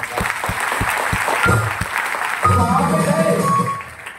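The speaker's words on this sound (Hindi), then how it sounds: "आशीष सर के लिए जोड़ा ताली में।" An audience clapping at a company meeting, loud and close, starting as a few separate claps and spreading into general applause as another voice speaks over it.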